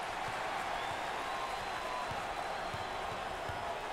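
A packed arena crowd at an NCAA tournament basketball game between Bradley and USC roars steadily with cheers and applause throughout, a dense, continuous wash of noise.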